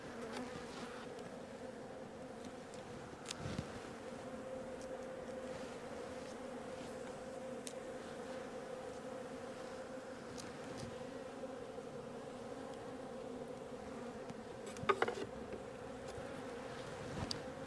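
Steady, dense buzzing of many honey bees around a hive, a continuous drone that fills the whole stretch with a brief louder burst near the end.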